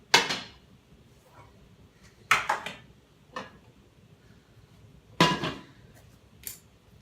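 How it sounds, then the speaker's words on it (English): Pots and pans being moved around while cleaning a kitchen: several separate metallic clanks and clatters, sharp and fairly close, with quiet gaps between them. "I'm moving pots and pans around now"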